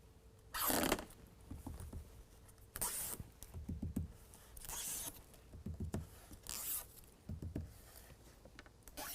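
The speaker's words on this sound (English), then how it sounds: "pull out the rest of the tape" Adhesive tape backing peeled off a low-profile window deflector on a 2022 Toyota Tundra, several quiet, close ripping strips in separate bursts with small handling noises between.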